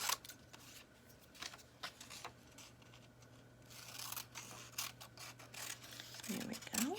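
Scissors cut a paper feather template for a Thankful Turkey craft, giving soft, close snips and rustling paper over a low background hum, with a louder crinkle near the end.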